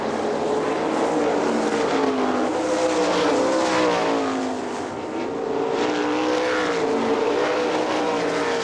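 410 sprint cars racing at Hartford Speedway Park in Michigan, a loud steady roar of several engines whining up and down as they run bumper to bumper through the turns, with no talk.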